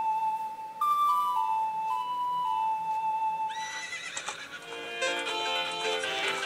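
Epona, the horse from The Legend of Zelda: Ocarina of Time, gives a clear, close whinny after a steady game music tone, followed by bright game music and effects.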